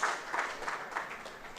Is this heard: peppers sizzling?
no